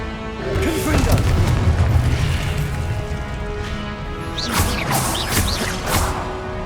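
Fiery Confringo blasting-spell explosions from Hogwarts Legacy burst out in a loud, close run of booms and crackling impacts, with whooshing casts, while a voice shouts spell names over the clashes.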